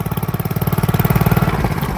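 A motorcycle engine runs in second gear, close and loud, its rapid even pulsing throb holding steady throughout.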